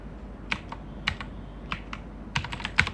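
A command is typed on a computer keyboard: quick clusters of sharp, close key clicks in uneven bursts, with short pauses between groups and a faint steady background hiss.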